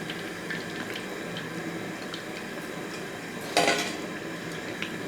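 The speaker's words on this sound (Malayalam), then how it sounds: "ഇനി നമുക്ക് ഇതും കൂടി കോരിയെടുക്കാം" Fried rava snack balls are lifted out of hot oil with a metal ladle in a Kerala home kitchen, bringing a low steady frying hiss and one brief metallic clatter of utensils partway through, with no talking.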